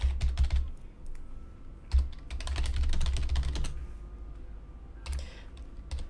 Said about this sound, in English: let's type it down here